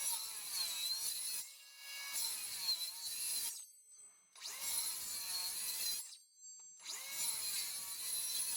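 Close-up sawing through wood in three bursts of rapid back-and-forth strokes, separated by short pauses, with no voices.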